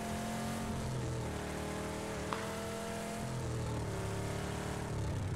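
A loud car engine drones steadily while driving in PUBG, with a constant low hum and no clear revving peaks.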